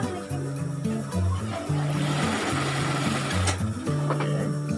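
Sewing machine stitching the fabric of a pant pocket, a steady close motor whir in short runs with brief stops, over faint background music.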